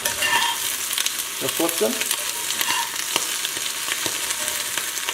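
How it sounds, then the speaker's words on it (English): Snow peas frying in a pan, a steady sizzle and crackle with occasional stirring scrapes; a person speaks briefly over it. "You can hear the snow peas are cooking."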